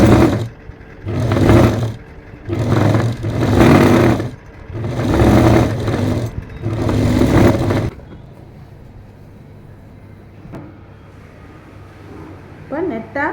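Electric sewing machine stitching a seam on a pair of straight-cut trousers, several loud bursts of rapid whirring about a second each separated by short pauses, then quiet handling noise.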